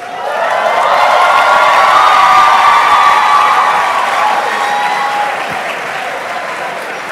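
Sustained loud applause from a large audience filling a white coat ceremony hall for pharmacy graduates, a steady wash of many hands clapping that holds for several seconds and then eases slightly, with faint voices mixed in.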